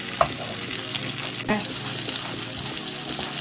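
Onions and fish fry in a pan with a loud, dense sizzle that runs continuously, broken by a single sharp clack from a utensil against the pan partway through and a few softer knocks, with no voices.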